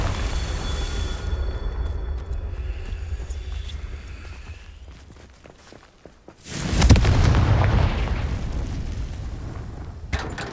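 A Confringo fire spell in Hogwarts Legacy sets off a loud, deep boom midway, followed by a sustained roaring rumble that lingers for several seconds over low game ambience.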